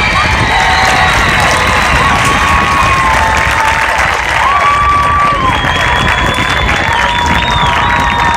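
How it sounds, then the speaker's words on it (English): A young audience at the North Metro Music Education competition, March The Plank 2019, bursts into loud, sustained applause and cheering. Whistles and whoops rise above a dense, unbroken wall of clapping that fills the whole stretch. "Let's have one more round of applause for all of our young people"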